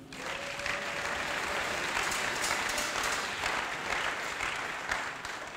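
Congregation in church clapping in praise, a dense, steady wall of applause filling the room without a break and with no speech over it.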